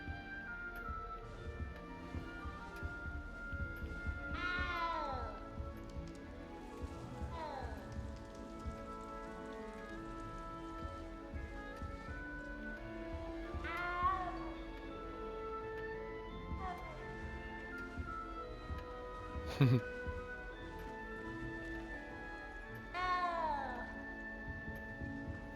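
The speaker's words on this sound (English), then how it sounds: "And good luck finding that cat." A cat meows several times at moderate distance in the Hogwarts Legacy castle, the calls rising and falling over a soft, steady bed of rain-like ambience and quiet background music.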